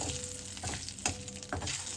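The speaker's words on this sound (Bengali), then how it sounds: "নাড়াচাড়া করে ফোড়নটা আমি ভেজে নেব" Whole cumin, two bay leaves and a dried red chili sizzle steadily in hot oil, with periodic scraping strokes of a spoon stirring the tempering, close and continuous.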